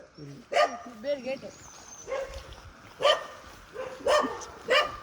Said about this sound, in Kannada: ನಾಯಿಗಳ ಕಾಟ